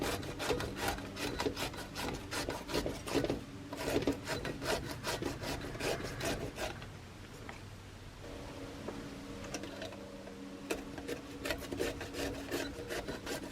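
Zucchini grated by hand on a grater, a run of rapid rough scraping strokes, close and fairly quiet, pausing briefly midway before resuming.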